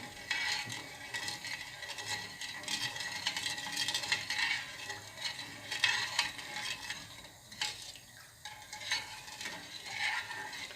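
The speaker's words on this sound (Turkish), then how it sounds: "Sürekli karıştıralım arkadaşlar kaynayasıya kadar" A spoon stirs sugar syrup for sherbet in a pot on the stove, giving a steady, fairly faint scraping and clinking against the metal that goes on without pause and with no voices.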